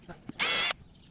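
Power drill pre-drilling holes during a DIY sailboat restoration, likely into teak trim on the hull: one short, steady high-pitched whir of about a third of a second, close and loud, with faint thuds before it.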